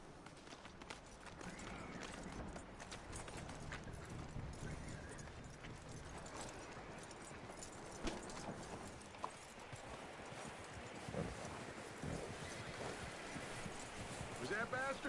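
Horse hooves clip-clopping at a walk in Red Dead Redemption 2, a steady rhythmic patter of hoofbeats heard faintly alongside quiet voices and ambient game sound.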